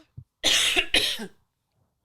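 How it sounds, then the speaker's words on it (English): Two harsh coughs in quick succession, close and fairly loud, with short quiet gaps before and after. "Am I allowed to cough?"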